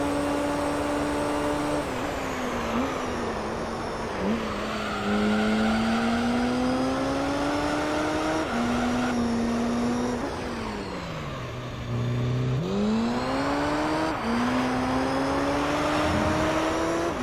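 A Mazda 787B race car in Gran Turismo 3 howls at high rpm, its engine note climbing through gears with brief dips at shifts, loud and continuous throughout.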